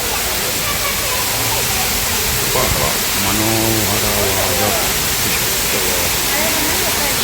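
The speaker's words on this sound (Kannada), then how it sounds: "ಇಲ್ಲಿ ಎಂಚಿನ ಮಧ್ಯದಿಂದ ನೀರು ಬರುವ ರೀತಿ ಸೃಷ್ಟಿಸಿದ್ದಾರೆ. ಈ ಒಂದು ಜಲಪಾತದ ಶಬ್ದದ ಒಂದಿಗೆ" An artificial waterfall roars in a constant, loud rush of water, and someone speaks briefly over it partway through.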